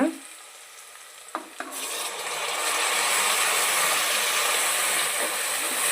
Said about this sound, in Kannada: ಟೊಮೊಟೊನೂ ಸ್ವಲ್ಪ ಸಾಫ್ಟ್ ಆಗೋ ಥರ ನಾವು ಫ್ರೈ ಮಾಡ್ಕೊಳಕ್ಕಾಗುತ್ತೆ ನೋಡಿ